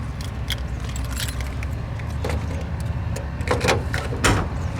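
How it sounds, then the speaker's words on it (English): A set of keys jangles and clinks in a few light metallic bursts while being picked up beside a red 1970 Ford Torino 429 Cobra Jet, over a steady low background rumble. "Let me grab the keys."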